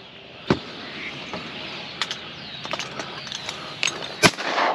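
Shotgun shots ring out at an opening-day duck hunt in a Wisconsin marsh, several sharp distant cracks spread irregularly through the clip over faint outdoor background noise, with no voices heard.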